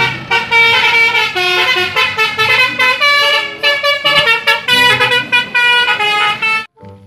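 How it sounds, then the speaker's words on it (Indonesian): A toy bus telolet horn plays a loud, close, rapid melodic sequence of bright horn tones, with choppy rhythmic bursts running continuously for several seconds before stopping abruptly. "Lihat, ada mobil bus telolet."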